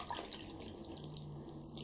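Water splashing in a tub while an African wild dog plush toy is bathed, a soft continuous wash and trickle with light sloshing, quiet and close, with no talking.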